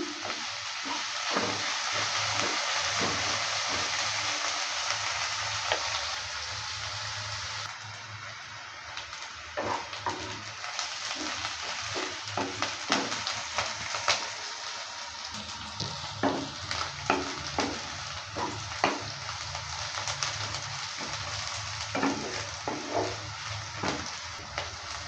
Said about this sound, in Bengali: লঙ্কাটা দেওয়ার পর ভালো করে আবারও নেড়ে চেড়ে নিলাম